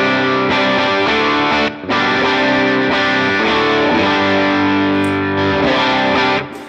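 Dry, driven electric guitar chords played through a Matchless DC30-style amp model with no reverb, strummed in a loose rhythm with a brief gap and abrupt stops instead of any trailing ambience.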